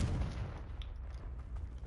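The Confringo spell fires in Hogwarts Legacy as a low, rumbling burst followed by faint crackling, heard alone with no talking.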